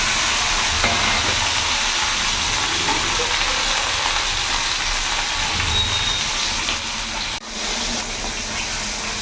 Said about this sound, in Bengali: মাছটা আমি লাল লাল করে ভেজে নিয়েছি